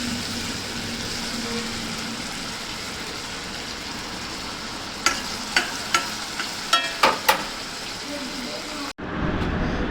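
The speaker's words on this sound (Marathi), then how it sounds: "फोडणी देऊया. हा बारीक चिरलेला कांदा" Finely chopped onion sizzling in hot oil for a Marathi-style tempering, a steady close hiss with a run of sharp clinks of a spoon against the pan before it cuts off abruptly.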